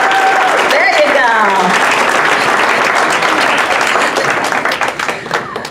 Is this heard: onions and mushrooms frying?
no